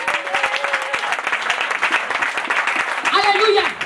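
Applause from a congregation during a French-language church service, a steady wash of clapping throughout, swelling louder near the end, with voices and a brief cry mixed in.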